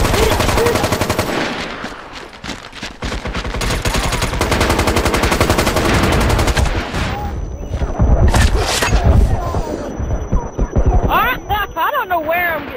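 Sustained gunfire in the shooter MAG, with dense rapid automatic bursts and heavy booms running loud almost throughout, while players talk excitedly over the shooting.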